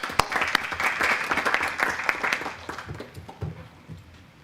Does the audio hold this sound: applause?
yes